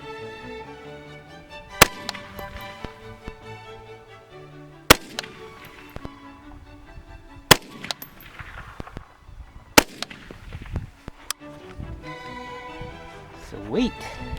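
Suppressed rifle firing a new load over Athlon Rangecraft and MagnetoSpeed chronographs at an outdoor range, four or five sharp separated shots spaced a few seconds apart, loud against ringing background music and quiet talk.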